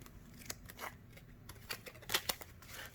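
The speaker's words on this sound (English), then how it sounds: "we're just gonna mix them up a bit by giving them a cut, and a couple more" Playing cards are cut and squared by hand in a quiet magic demonstration, giving soft snaps and crisp flicks at an irregular pace, close and faint, with a brighter pair of clicks toward the end.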